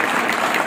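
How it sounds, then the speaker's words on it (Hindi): A school annual function audience breaks into a loud, dense burst of clapping for a teacher, a short wash of many hands with no voices. "जोरदार तालियां भगवान जी सर के लिए"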